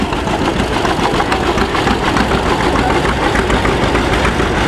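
A vintage John Deere tractor engine idles close by at an outdoor festival with a steady, rapid chugging rhythm and loud, even rumble throughout, no voices.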